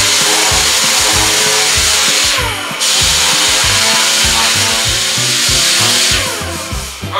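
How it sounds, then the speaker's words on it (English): A DA sander working the painted body of a 1970 Volkswagen Karmann Ghia, a loud continuous whirring and rubbing drone that runs steadily throughout with slight shifts in pressure near the end. "I'm going to go ahead and use my DA sander just to speed things up."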